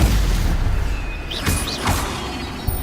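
Stupefy spell cast in Hogwarts Legacy, a sharp magical burst with swooshing, whistling tones over a low rumble, a couple of quick impacts following close together.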